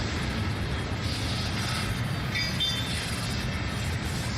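Locomotive traction motors in the Run 8 train simulator on the CSX A-Line, a steady loud rumbling drone with a rail-car roar and faint high squeals, continuous throughout.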